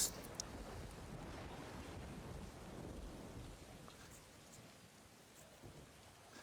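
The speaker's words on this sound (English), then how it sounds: "I guess storms when you're that close to the ocean must be crazy." Rain pours steadily while low thunder rumbles and slowly fades, a distant storm with no voices.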